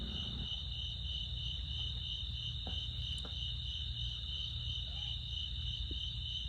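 Crickets and frogs chirp steadily outdoors at night in Black Kettle WMA, northwest Oklahoma, a dense continuous high insect trill with a few faint, brief frog or bird calls breaking through.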